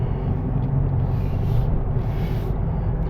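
A 2021 Dodge Charger R/T Daytona's big V8 engine rumbles steadily at idle, low and throaty, with a faint hiss rising briefly over it.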